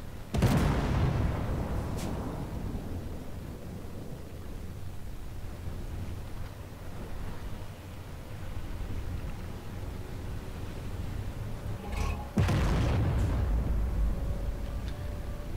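Tank cannon firing armour-piercing rounds in the Armored Warfare game, two heavy booming shots with a long rumbling tail, one near the start and another about twelve seconds later, over a constant engine drone.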